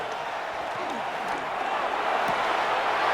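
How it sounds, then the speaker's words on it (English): Simulated stadium crowd in the Madden 26 football video game, New Orleans Saints defending in the red zone on third down: a steady, loud broadband roar that swells slightly toward the end, with no clear individual voices. "This crowd into it now as we get to third down."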